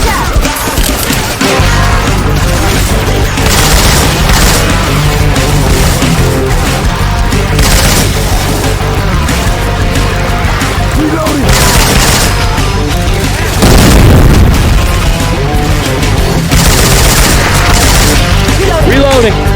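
Gunfire from Syphon Filter weapon sounds modded into Left 4 Dead 2 fills a dense, loud, continuous stretch of game combat, with booming shots and crashes layered under game music and character chatter.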